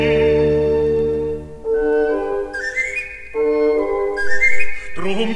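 Bright, piping whistle phrases from the bird-catcher's panpipe in Mozart's The Magic Flute, sounding a few rising stepwise runs in close succession, loud and clear with orchestral accompaniment and no singing over them.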